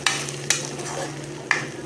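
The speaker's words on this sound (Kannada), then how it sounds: "ಹಾಕ್ಕೊಂಡು ಚೆನ್ನಾಗಿ ಬಾಡಿಸ್ಕೊಳ್ಳಿ" Ground masala paste being sautéed in a pan for paneer curry, a steady low sizzle punctuated by three sharp clacks of a spoon against the pan, no voices.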